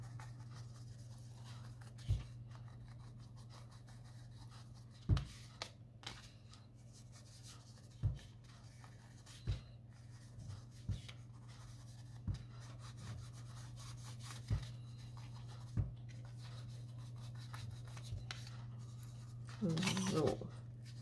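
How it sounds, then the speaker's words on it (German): An envelope being coloured grey by hand gives soft, repeated scratching and rubbing strokes with occasional sharper taps, set against a steady low hum. "Und zwar möchte ich erstmal den Umschlag mit Grau einfärben"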